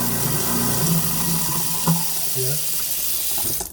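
Tap water gushes steadily into a sink, a continuous splashing stream close by, with a brief spoken word near the end.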